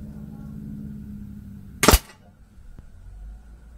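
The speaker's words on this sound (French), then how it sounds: "on va essayer de se tirer quelques plombs" A single sharp air rifle shot from a Black Ops Sniper Tactical firing a lead pellet, loud and close, standing alone over a low background hum with a faint click afterward.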